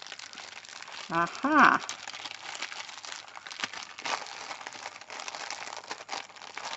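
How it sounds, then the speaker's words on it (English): Christmas mail being ripped open, a steady papery crinkling and tearing running throughout, with a brief exclamation from a voice near the start. "How do I open it? Like, ripping it."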